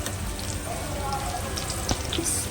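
Bitter gourd spice mix frying in oil in a home kitchen pan, a soft steady sizzle with faint crackles and one brief clink, quiet and close.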